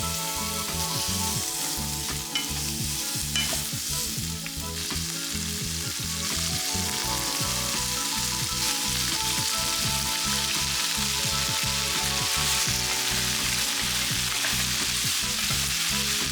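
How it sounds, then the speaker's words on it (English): Peppers and onions sauté in a tablespoon of oil for a chilli chicken dish, giving a steady, loud, dense sizzle that runs without break, with occasional scrapes and stirs of the pan close by. "we're going to start sauteing some peppers and some onions."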